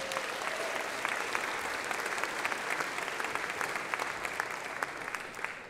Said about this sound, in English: Can you give a round of applause for her?